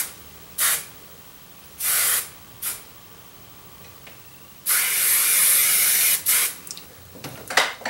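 Short hissing bursts from a hairspray can sprayed on hair, a few quick sprays followed by a longer sustained one, close and clear in a quiet room.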